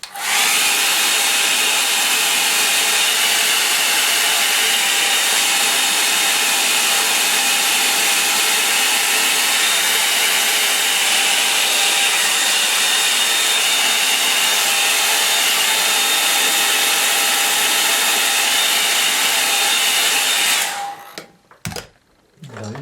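A hair dryer blows steadily at close range for about twenty seconds to dry wet paint on a picture of trees, a loud continuous whoosh that cuts off abruptly near the end, with no talking.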